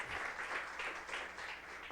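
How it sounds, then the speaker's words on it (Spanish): A church congregation applauds steadily for a couple of seconds, a dense wash of many hands clapping at once, fairly loud and unbroken. "Dele un aplauso a las mujeres"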